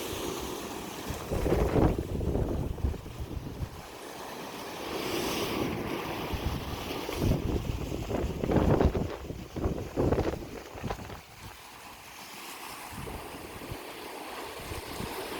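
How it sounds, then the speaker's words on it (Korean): Strong sea waves crash and surge at a coastal fishing spot in Gongsu village, Gijang county, while gusty wind buffets the microphone in loud rushing bursts that rise and fall, with no talk heard. "오늘은 이렇게 파도가 너무 세고 있습니다"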